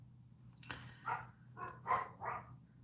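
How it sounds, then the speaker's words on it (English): Several dogs locked outside bark a few times in a short burst, muffled and fairly distant, with no talk. "you might still be able to hear them bark"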